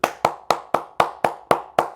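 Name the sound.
clapping hands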